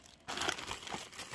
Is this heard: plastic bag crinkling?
yes